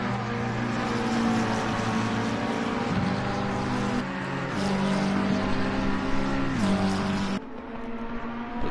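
Race cars including a McLaren lapping Donington Park, with engines droning steadily nearby and pitch rising and falling through gear changes, then the sound cuts sharply lower near the end, no voices.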